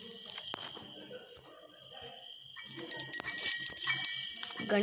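A bright, high bell rings with sustained metallic tones over faint background clatter and movement, growing louder toward the end.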